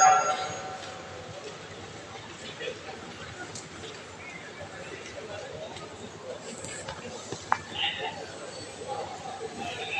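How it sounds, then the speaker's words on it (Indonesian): Platform ambience at Manggarai Station, Jakarta, with a steady rumble of a commuter train, crowd babble and chatter in the background, and a brief sharp clank near the end. "Jalur 11 masuk ke Jakarta Kota, rangkaian 8 kereta."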